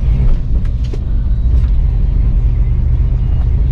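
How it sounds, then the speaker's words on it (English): A 1981 Ford Bronco truck drives down a road with a loud, steady low engine rumble and road roar from inside the cab, with a few faint squeaks and rattles near the start. "The truck drives down the road straight"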